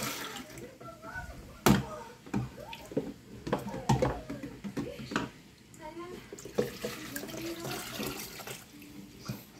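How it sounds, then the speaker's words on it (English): A toddler plays in running tap water at a sink, making irregular splashes and trickling pours over a soft, steady flow, with voices speaking nearby. "He is playing in the water, I'm telling you guys."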